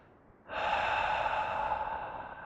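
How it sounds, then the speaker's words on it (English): One long, close breath exhaled during a yoga class in rabbit pose, a soft airy rush rising sharply and holding steady for about two seconds. "Inhale through the nose, inhale, inhale, fill your belly, fill your lungs, exhale out the mouth."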